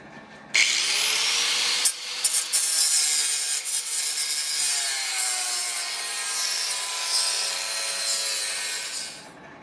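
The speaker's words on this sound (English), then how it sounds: "more than likely it'll be easier with the grinder" An angle grinder cuts a piece for a power supply mount on a lab bench AC power supply build, a loud, steady abrasive rasp with a rising metallic whine that runs for about nine seconds before cutting off.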